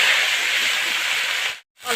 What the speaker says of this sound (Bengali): মাছ ভাজার তেলের মধ্যে ফুলকপি ভেজে নিচ্ছি